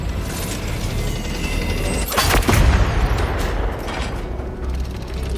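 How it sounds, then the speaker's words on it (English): A cannon fires in the farming video game Lightyear Frontier, a single heavy boom with a mechanical clatter around two and a half seconds in, set against steady game ambience and background music. "Fire the cannon!"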